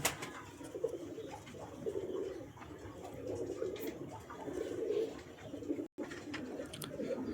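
A steady, overlapping murmur of low, throaty coos comes from a pair of Teddy flying pigeons and their loft-mates close by, broken only by a split-second dropout near the end.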